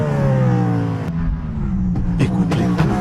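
Cadillac V-LMDH race car with a V8 engine, loud and close, its steady tonal engine drone shifting into sharp blips as it revs.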